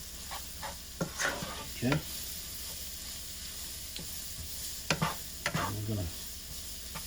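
A spoon stirs a thick flour-and-oil roux in a skillet with intermittent scraping strokes over a faint sizzle, while a person speaks briefly.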